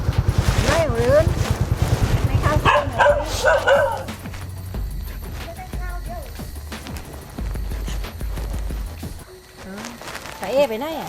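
Dogs at a village house in rural Thailand bark and yip in a rapid loud volley up close, then whimper and bark more sporadically, with people talking over them.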